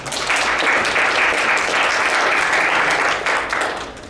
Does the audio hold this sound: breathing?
no